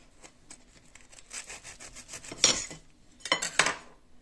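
Cutlery slicing open hot air-fried food with onions, making scraping, sawing strokes against a plate that build to two louder rasping bursts near the end.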